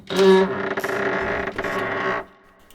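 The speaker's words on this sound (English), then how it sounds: "what a weird noise that door makes when you're opening it." Door creaking open in a horror video game, a loud, drawn-out, warped groan with tonal squeals that wavers and stutters for about two seconds before cutting off into quiet.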